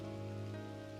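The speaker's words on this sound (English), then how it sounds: "Oh, it's raining with the sun out." Steady in-game rain patters down in the survival game 7 Days to Die, a continuous even hiss of drops heard up close for about a second with no talking.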